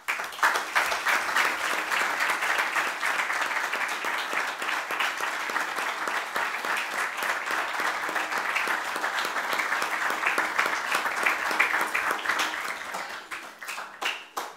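Audience applause at a book launch, a dense, steady burst of clapping from many hands that lasts throughout, loud and close before tapering off at the end.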